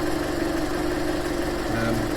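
A recovered sport car's engine idles steadily up close, a constant low rumble with an even, fine pulse that runs unchanged throughout.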